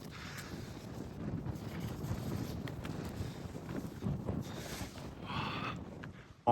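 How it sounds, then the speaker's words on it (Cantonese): Strong wind buffets outdoors at a scenic lookout, producing a continuous low rumbling roar with gusty surges and brief faint sounds mixed in, loud and close, with no speech. "好大風啊！"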